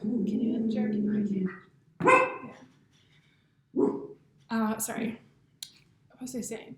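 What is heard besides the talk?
dog barking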